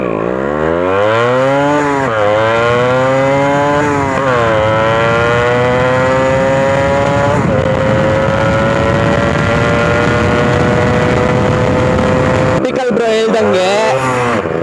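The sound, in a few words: Yamaha RX135 two-stroke motorcycle riding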